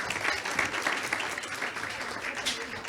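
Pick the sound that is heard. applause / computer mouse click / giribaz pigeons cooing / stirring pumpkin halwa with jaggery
applause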